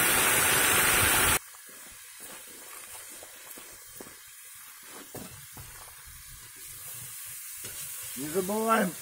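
Meat and potatoes sizzle softly in a cauldron over a campfire, a faint steady frying hiss after a brief loud burst at the start, with a voice speaking at the very end.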